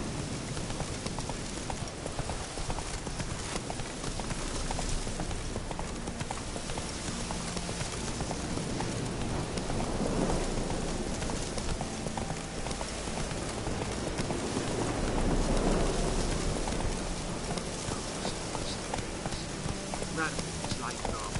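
Roach, the horse in The Witcher 3, clip-clops along steadily and continuously, with game ambience and talk on top throughout.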